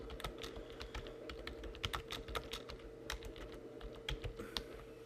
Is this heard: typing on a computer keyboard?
yes